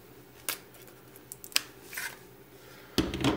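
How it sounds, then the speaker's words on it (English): Scissors cutting the tabs on the packaging of an Aeon Labs dry contact Z-Wave sensor, a few sharp, close snips and crinkles spaced apart, ending in a louder rustle of the box. "Let's go ahead and cut the tabs here at the bottom."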